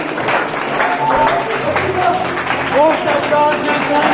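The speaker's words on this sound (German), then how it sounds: "Ich bitte nochmal einen kurzen Applaus für meine Damen" Brief applause at an awards ceremony for the helpers who pinned on the awards and for the man who played the music, a crowd clapping steadily under voices and some cheering.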